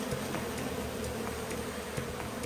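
Honeybees in a colony built inside a roof hum steadily, a soft, continuous close-up buzz with small flickers of individual insects and no talking.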